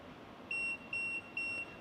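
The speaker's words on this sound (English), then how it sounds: "double press this button and hold it. It's going to beep 3 times." Three evenly spaced electronic beeps, each about a quarter second long, from a MUNBYN RealWriter 403B thermal label printer resetting its Bluetooth connection, over a faint background hiss.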